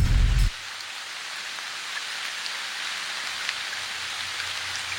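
Steady rain hiss in a video game, an even wash of falling drops after a brief low thump at the start, continuous and moderately loud with no talking.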